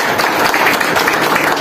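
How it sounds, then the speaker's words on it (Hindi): Loud, dense applause from a crowd at a jewellers' association ceremony, steady and continuous throughout a short burst. "मैं चाहता हूँ जोरदार तालियां एक बार।"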